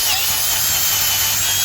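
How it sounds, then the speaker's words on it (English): A power drill fitted with a garden bulb-planting auger bit bores into dirt, a loud steady whirring motor with a gritty churning edge, close and continuous. "I'm going to just drill a hole in here just to show you how it works."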